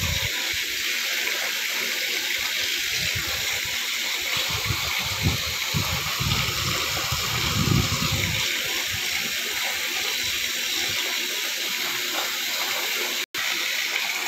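Water runs and splashes steadily while a mineral water filter membrane is rinsed, a continuous hissing gush with some lower gurgling, and no voices.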